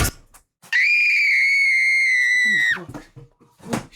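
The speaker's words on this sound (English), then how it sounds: "They scream for help." A single loud, high-pitched scream for help rings out alone for about two seconds, then breaks off into faint scuffling.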